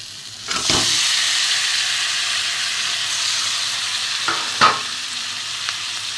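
Katla fish heads dropped into hot oil give a loud, steady frying hiss with sharp sizzling bursts as they land, plus a few spoon-stirring scrapes, with no voices.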